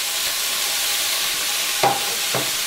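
Sausage sizzles in a hot pan, a steady, close, hissing crackle with a couple of brief stirring scrapes toward the end.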